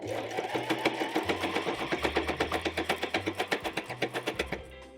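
A home sewing machine stitches denim for a jeans maxi skirt, a close rapid rhythmic chatter of needle strokes that speeds up and holds steady before stopping, with a person talking over it.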